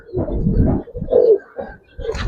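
Small bred pigeons at a Giribaz and coloring pigeon farm coo in soft, low, rumbling bursts mixed with rustling and movement nearby, quiet overall and with no speech.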